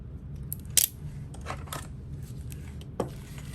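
Scissors snipping fabric and trimming thread while sewing a parachute knapsack, with one sharp close snip followed by a few lighter cuts over a low steady hum, without speech.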